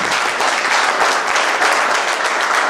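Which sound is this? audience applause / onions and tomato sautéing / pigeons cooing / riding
audience applause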